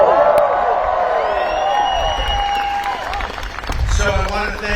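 A large crowd at a summer event on the White House lawn applauds and cheers, a broad wash of clapping and whoops that swells near the end, with voices mixed in.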